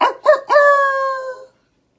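A voice imitates a wolf howl during a told story, with two short rising yelps followed by one long, sustained, loud howl that cuts off cleanly into silence.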